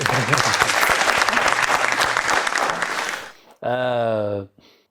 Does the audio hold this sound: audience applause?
yes